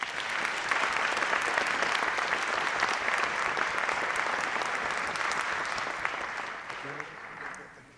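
Warm audience applause welcoming a guest presenter to a talk, full steady clapping that holds strong before tapering off near the end as a voice begins.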